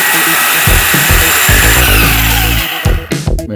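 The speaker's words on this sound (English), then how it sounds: "cutting off the muffler." A power tool cuts into the muffler of a Porsche Cayenne Turbo V8, giving a loud, steady, close-up whine that holds for about two and a half seconds, then falters and sputters near the end.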